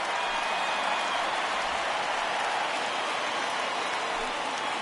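Stadium crowd in a baseball video game rising and cheering on a full 3-2 count, a dense steady roar of cheers and applause holding at an even level throughout.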